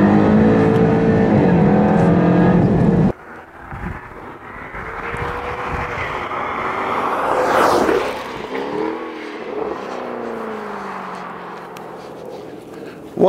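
A fast car accelerates out of the last corner of a lap on a track. The engine roars loudly and climbs, cuts off abruptly, then builds again under excited talking.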